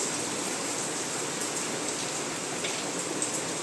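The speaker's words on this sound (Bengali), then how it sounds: "কি জোরে বৃষ্টি করছে শুধু দেখো মুসলধারে" Heavy torrential rain pours down in a steady, loud, dense hiss of countless drops striking surfaces, unbroken throughout with no voices.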